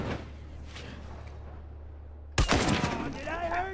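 Gunfire in The Last of Us Remastered cracks in suddenly partway through, with a loud shot and a short volley over a low steady hum, and a voice calling out alongside.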